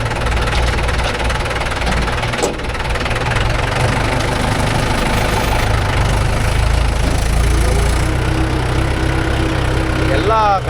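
A vehicle engine idles with a steady low rumble and faint knocking while creeping forward in a slow queue of about fourteen vehicles hauling lake soil, continuous and fairly loud throughout, with voices talking over it.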